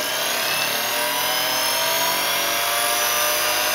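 Mini bench grinder and polisher with a flexible shaft, rated up to 10,000 RPM, running steadily at high speed, a loud continuous whining hum with no pauses.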